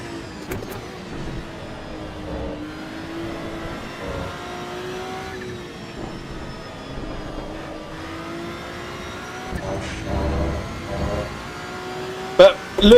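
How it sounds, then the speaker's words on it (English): Race car engine in Assetto Corsa EVO on the Nordschleife, a continuous drone with shifting pitch and a few sharp revs near the end, running under someone talking. "Don't know if you hear that over the engine."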